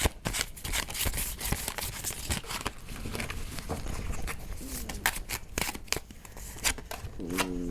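Tarot cards shuffled by hand for a card draw, a steady stream of soft papery riffles and slaps, close and fairly quiet, with no talk over it.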